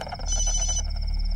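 A telephone rings in a dubbed Hindi action film, a steady electronic trill repeating briefly and fairly clearly over a quiet background.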